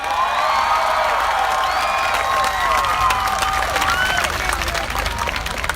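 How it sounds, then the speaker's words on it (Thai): Large protest crowd of over ten thousand at a Thai rally near parliament, dense sustained clapping and cheering with whistles and whoops throughout, loud and continuous. "มีผู้ชุมนุม เกินหนึ่งหมื่นคนปรบมือให้ตัวเองเลยครับ"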